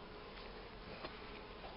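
A honeybee swarm hums in a faint, continuous drone that holds steady throughout, quiet and distant-sounding, with no voices.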